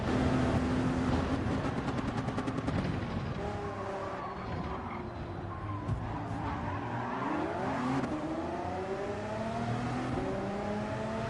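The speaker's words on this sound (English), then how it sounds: "Had to slam on the brakes right there." Race car in a racing video game braking hard into a corner, with tire squeal and skidding over steady engine drone and downshift revs, close and loud throughout.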